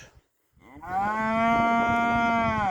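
A single long, loud cow moo rises after a short pause and holds steady, close by, with no other sounds.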